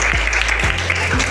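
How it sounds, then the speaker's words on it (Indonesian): Classmates applaud a student group after its presentation during a classroom lesson, a brief, close burst of clapping over a low background hum. "Tepuk tangan untuk kelompoknya."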